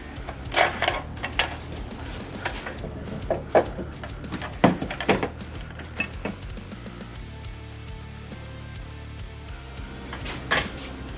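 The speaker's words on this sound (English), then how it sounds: "these slide in this aluminum track right here in the bottom" Metal T-brackets slide into an aluminum track on a Ram 2500 Cummins diesel step bar, with scattered scraping clanks and knocks over a steady low hum, close and moderately loud.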